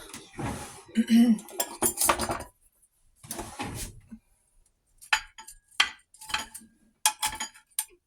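Bowl and spoon clinks and scrapes come in short bursts, with a pause midway, while hot caramel dumplings are dished up close by.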